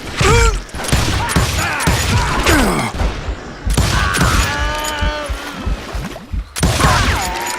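Gunfire and booms from the Western shooter game Call of Juarez: Gunslinger, loud, dense and continuous, with sharp shots, clattering mechanical sounds and ringing tones over most of the stretch and no talk.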